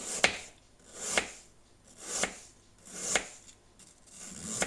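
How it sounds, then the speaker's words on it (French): A knife cuts an apple into very thin slices on a board, five crisp chopping strokes spaced about a second apart, each with a short scraping tail, close and clear with no talk. "je vais faire des toutes petites lamelles très fines"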